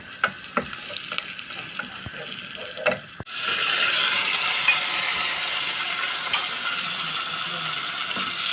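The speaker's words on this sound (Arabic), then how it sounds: "حطينا الزيت وحطينا البصل" Onions dropped into hot oil for Egyptian sayadeya fish rice burst into a loud, steady sizzle after a few clinks and stirring knocks, the frying continuing close and constant to the end.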